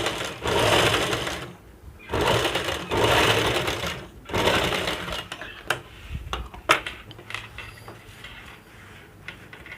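A sewing machine stitches fabric for a laptop bag, running in three long steady whirring bursts and then a few short stop-start runs with clicks, close by and without voices.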